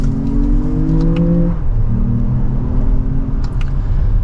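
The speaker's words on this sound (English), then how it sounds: "Nice healthy acceleration for this SUV." A 2024 Lexus RX500h F Sport hybrid SUV pulls hard in sport mode, second gear, its smooth engine note climbing in pitch, dropping briefly at a shift, then rising again, moderately loud and steady with no talking.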